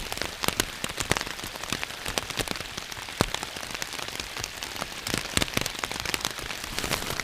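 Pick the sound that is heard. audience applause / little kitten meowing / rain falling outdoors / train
rain falling outdoors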